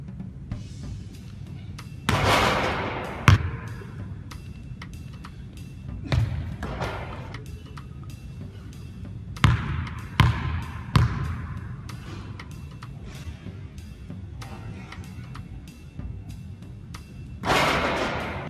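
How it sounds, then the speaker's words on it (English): A basketball thuds on a court during free throw shots, with scattered heavy bounces and slams spaced several seconds apart, some echoing, amid faint room noise and a little background voice. "Now we're going to look at some free throw shots that are not correct"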